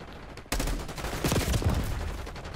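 Rapid gunfire in a video game breaks out abruptly and keeps going as a loud, dense fusillade of close shots.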